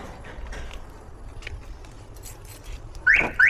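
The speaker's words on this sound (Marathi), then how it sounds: "तर जा गाडी अनलॉक करतो." A parked car in a housing society's parking area gives two short, high chirps near the end as its remote unlocks it, standing out against low outdoor background noise.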